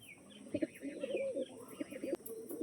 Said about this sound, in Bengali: অরিজিনাল পালসার ব্রিডের পায়রা